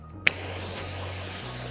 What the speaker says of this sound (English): So now I'm gonna pre-rinse the whole vehicle and start soaping it as normal.